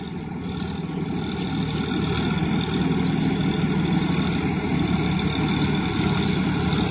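A tractor loaded with harvested paddy idles with a steady, close diesel rumble that holds at an even level throughout, with no talking.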